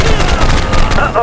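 Rapid gunfire from a helicopter in Choplifter HD, loud and dense bursts packed over a short stretch with booming low end and no pauses.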